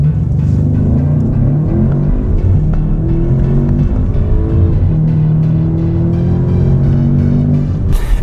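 Volkswagen Arteon 2.0 TSI in 280-horsepower R-Line form accelerating hard, its engine note climbing through steady rising harmonics across several gear pulls, loud and continuous with no talk.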